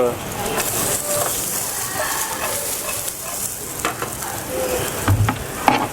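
Duck breast and finely sliced onions fry with green peppercorns in a pan, a steady close sizzle with stirring and scraping, while a voice talks faintly over it.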